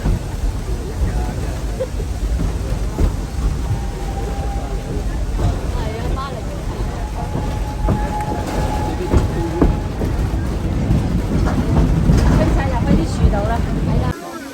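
Train rolling along the rails beside a level crossing near a 19th-century church in France, a steady low rumble and clatter running the whole time with a couple of brief horn-like tones, while a voice talks over it.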